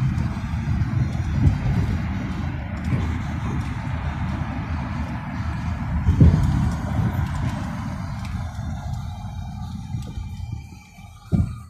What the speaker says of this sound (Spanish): los camiones van lo más lentos posible para acarrear la mayor cantidad